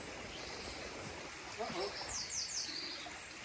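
A river rushes steadily at a dangerous crossing on the Pacific Crest Trail, a continuous close wash of water with a few faint bird chirps and brief murmured voice sounds over it.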